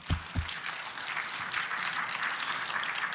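A brief burst of applause from a group, steady clapping over a few seconds after a couple of sharp claps at the start.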